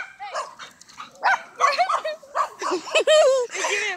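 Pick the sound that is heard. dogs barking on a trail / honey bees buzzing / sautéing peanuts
dogs barking on a trail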